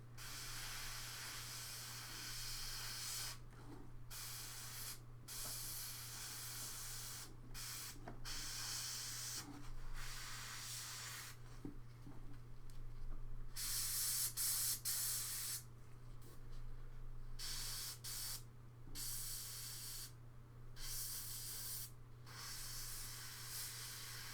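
Airbrush spraying paint onto Warcry miniatures, a continuous close hiss in repeated bursts of several seconds separated by short breaks, with a low steady hum underneath and no talking.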